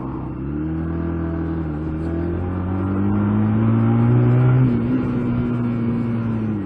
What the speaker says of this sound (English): And for a 125 it's got pretty good acceleration actually.